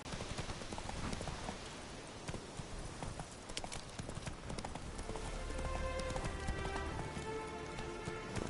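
Roach the horse galloping in The Witcher 3, steady rapid hoofbeats over continuous rain patter, mid-distance and even in level throughout.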